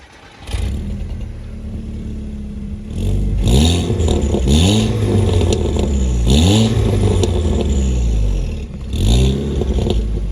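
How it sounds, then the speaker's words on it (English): A 2008 Volkswagen Golf GTI Mk5 with a stock exhaust and aftermarket downpipe idles with a low rumble, then is revved repeatedly in several sharp bursts that rise and fall, loud and close. "So the exhaust sounds pretty good for a standard system with just a downpipe."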